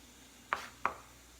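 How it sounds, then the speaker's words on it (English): Two crisp knife strikes land on a cutting board about a third of a second apart while garlic is finely chopped in a home kitchen, close and clear over a faint background hum. "I'm just really finely chopping this garlic"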